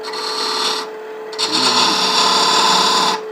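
A lathe tool cuts a chamfer on a turning wooden rook chess piece box, producing a loud continuous scraping hiss with a steady machine hum, briefly easing before resuming.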